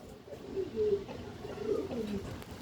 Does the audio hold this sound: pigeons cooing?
yes